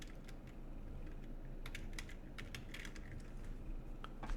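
A search is typed on a computer keyboard: quiet, irregular bursts of key clicks over a low background, with no talking.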